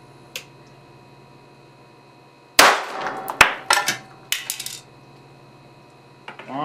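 A 6400-volt capacitor bank fires at a remote control with a sharp, loud crack, followed by several clattering impacts as the remote jumps into the air and lands on the floor, with a faint low hum underneath.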